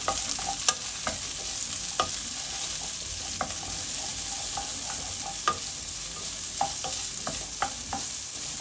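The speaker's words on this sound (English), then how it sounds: "So we are going to fry all the vegetables on a high heat for about 2 minutes" Vegetables stir-fry over high heat in a tablespoon of oil for sweet and sour pork, a constant bright sizzle punctuated by sharp, irregular clinks of the spatula against the pan.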